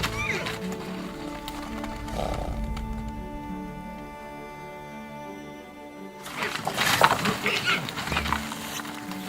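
Yakutian horses in an icy Siberian village, with a loud whinny-like call near the end over steady background music, and some thudding movement in between.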